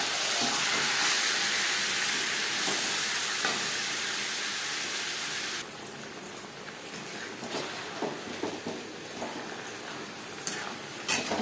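Chicken pieces and onions fry in a hot pan for an aloo chicken curry, giving a steady loud sizzle that drops to a quieter crackle partway through, with occasional stirring clinks and scrapes.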